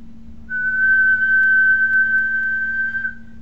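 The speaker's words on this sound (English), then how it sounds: "what I'm going to do is whistle, and if I'm above 1500 hertz, the LED should come on" A single steady human whistle pitched above 1500 hertz, held loud and clear for about two and a half seconds over a constant low electrical hum.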